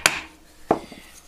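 A chisel chopping down into wood to clear waste for a dovetail joint, two sharp close strikes about two thirds of a second apart, each followed by a brief woody ring, with no talking.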